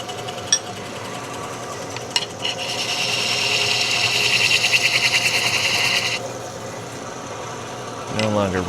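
A Proforme hook tool scrapes and rasps against wood spinning on a lathe. The bright cutting hiss swells for a few seconds over the motor's steady hum, then drops away.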